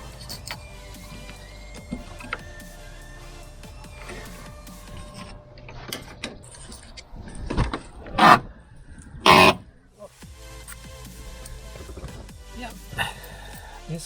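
A 1983 Honda Civic three-door is being started, with a few short, loud bursts of starter cranking clustered midway through and quiet mechanical background between them.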